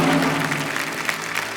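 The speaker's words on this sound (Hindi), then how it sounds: "ताली बजाइए" Audience applause for a correct answer on a Hindi quiz show with Amitabh Bachchan, a dense burst of many hands clapping that fades slightly across a short stretch.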